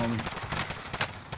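Shotgun blasts in a video game fire in quick bursts of sharp, broadband cracks at close range, with a few spaced shots and no clear speech over them.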